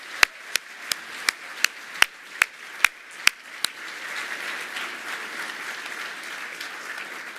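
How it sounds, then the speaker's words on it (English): A round of applause from a competition audience opens with about ten loud, evenly spaced single claps close by, then settles into a softer, steady wash of clapping from the crowd. "So please, a round of applause."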